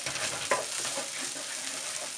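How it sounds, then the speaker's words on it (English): Smoked garlic cloves frying in a pan give a steady, close sizzle with a brief stirring clatter near the start, with no voices. "I have about 5 cloves of garlic that I'm gonna toss in here and let that cook up ever so slightly"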